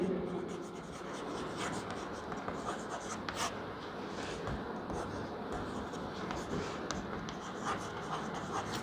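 Chalk or a marker scratches steadily across a board during a lecture as a definition is written out, a continuous close-up stream of strokes with brief pauses.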